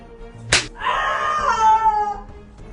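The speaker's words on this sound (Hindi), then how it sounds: "अभी तो तुझे सिर्फ बेल्ट से मारा है।" A woman being beaten with a belt: one sharp, loud slap of the belt is followed by a long, drawn-out cry of pain that wails on for more than a second before fading.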